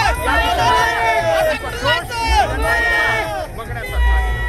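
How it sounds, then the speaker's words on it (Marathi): A large protest crowd gathered on a jammed highway makes a loud, dense babble of many overlapping voices with shouts rising out of it. A low rumble runs underneath. "खरोखर वाटलं नव्हतं एवढ्या प्रमाणात या आंदोलनाला एवढी मोठी गर्दी होईल"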